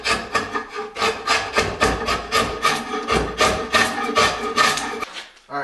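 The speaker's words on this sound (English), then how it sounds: "So just take your draw knife, lay your stave on edge" A draw knife shaves along the edge of a wooden longbow stave, producing steady, rhythmic rasping strokes of wood being scraped, loud and close, before stopping abruptly at the end.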